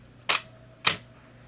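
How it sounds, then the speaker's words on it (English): An Olympus OM-2 film camera with a 50mm f/1.4 lens firing its shutter at a slow speed, two separate crisp clicks about half a second apart, close and clear in a quiet room. "we heard the shutter speed went much slower"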